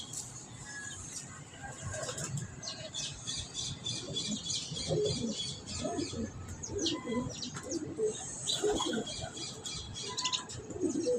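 Breeder pigeons at a loft coo and squawk steadily throughout, with chirps and occasional wing flutters mixed into a busy, continuous bird chorus.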